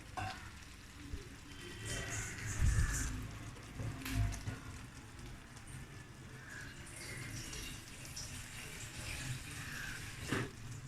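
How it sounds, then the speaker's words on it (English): Water pours into a pot of potatoes, a continuous, soft splashing and trickling stream with a few louder sloshes, fairly quiet and with no talk. "We're just going to add some water to make sure the water is exactly keeping the potatoes underneath"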